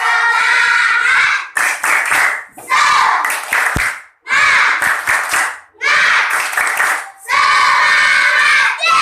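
A group of children performs a rhythmic spirit-clap cheer in a classroom lesson, with bursts of unison clapping and shouted chanting repeating in several loud phrases separated by brief pauses.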